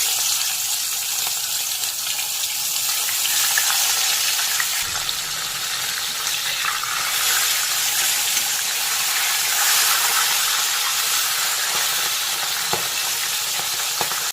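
Pomfret fish fry in hot mustard oil in a karahi, producing a loud, continuous crackling sizzle that holds steady for the whole stretch, with no talking.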